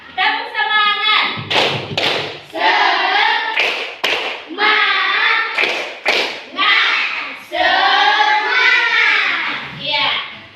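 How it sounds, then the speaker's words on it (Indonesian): A group of children at a school gathering does rhythmic spirit clapping in sharp bursts, interleaved with loud chanted voices. "Tepuk semangat."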